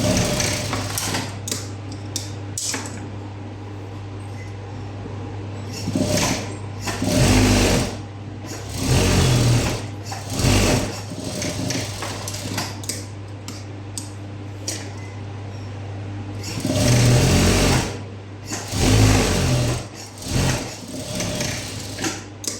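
Sewing machine stitching blouse sleeves, running in repeated bursts of steady mechanical whirring with short pauses between runs, close and fairly loud, with no talking.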